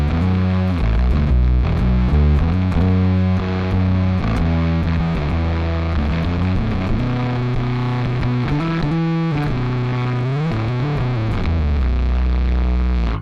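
Electric bass played through a Darkglass distortion pedal in its fourth distortion mode, a loud, woofy, fuzzy distorted tone with sustained low notes and shifting chords running continuously throughout.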